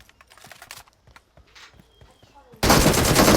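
Gunfire in a shooting video game: after scattered light clicks and faint background voice, a sudden loud, dense sustained burst of automatic fire fills the final second.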